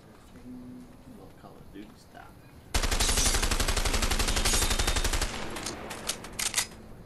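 An MP5 submachine gun in A Way Out fires one loud, rapid sustained burst of about two and a half seconds, followed by a few shorter bursts, with quieter sounds before the shooting starts.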